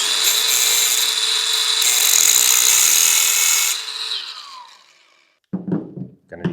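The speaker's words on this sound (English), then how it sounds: "I just hold it with a vice grip and take a cutting wheel and go for it." A cutting wheel slices through small screws clamped in a vice grip, giving a loud, steady high-pitched grinding whine for nearly four seconds that winds down, followed by brief clunks of handling.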